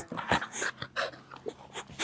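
A large, heavy dog with a very big head pants in quick, breathy bursts close to the microphone, with soft whimpering sounds between breaths.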